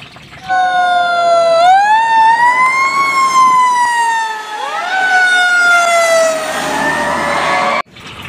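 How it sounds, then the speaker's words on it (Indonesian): A loud fire truck siren wails close by, its pitch sweeping up and down in long rising and falling tones, with no talking. "ini ada truk pemadam ini mobil damkar"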